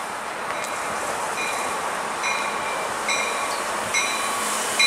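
A train passes beneath overhead catenary wires at Cornwells Heights station. Its steady broadband rumble holds throughout, and thin high squeals and tones come and go over it.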